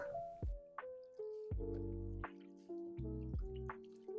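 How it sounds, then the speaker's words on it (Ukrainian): Water drips and splashes in short bursts as a wool sweater is squeezed and lifted in a basin of rinse water, with brief pauses between each wet squish. "просто пожамкуючи його у воді. І таким чином виполіскуваючи виріб."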